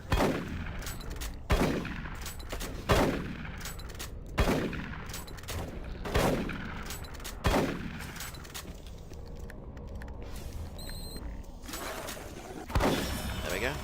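Assault rifle fire in Doom 3, sharp loud shots or short bursts repeating about every one and a half seconds, each with a ringing decay, a quieter stretch near the end before one final shot.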